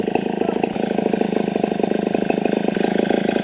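A motorcycle engine runs after being refueled with gasoline, idling with a loud, fast, even putter of rapid pulses that continues steadily throughout, with no talking.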